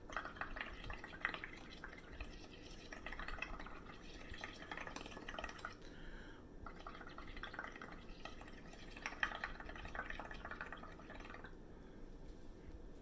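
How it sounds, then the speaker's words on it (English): Someone blows through a straw into a bowl of bubbly paint mixture, making soft, continuous burbling, gurgling and dripping liquid sounds, close and quiet, with brief pauses between breaths. "I'm going to blow some of the bubbles in this bowl here"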